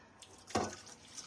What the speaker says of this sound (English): I just spilled water all over my floor.